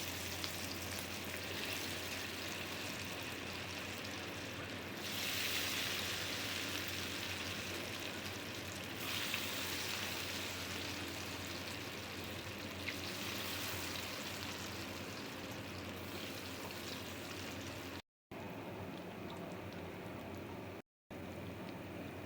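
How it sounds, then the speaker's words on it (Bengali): French fries frying in hot oil, a continuous dense sizzle that swells and eases in waves, close and steady, with two brief silent gaps near the end and no talking. "কয়েকটা ফ্রেঞ্চ ফ্রাই করে নিচ্ছি"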